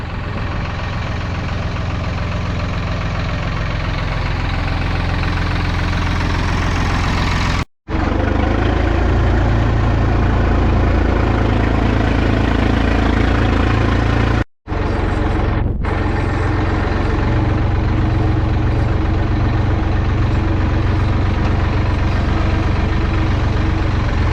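A heavy diesel engine of a Hattat 240S 4x4 tractor runs steadily nearby, loud and rumbling throughout, with two very brief cuts in the sound.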